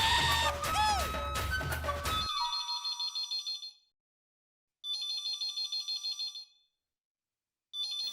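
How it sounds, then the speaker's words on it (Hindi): A telephone rings in repeated bursts of a trilling electronic tone, two full rings separated by silence and a third starting at the end, following a loud musical passage at the start. "एक फोन बंद हुआ नहीं और दूसरा शुरू हो गया।"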